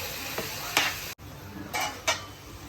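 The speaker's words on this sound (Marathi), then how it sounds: "इथे मस्तपैकी मिक्स करून घ्यायचा." Chicken being stirred and mixed in a pan, with a few scraping spatula strokes and a soft sizzle, close up and without talk.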